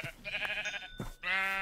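Minecraft sheep bleat twice in quick succession, nasal wavering baa calls heard up close and clear with nothing else around them.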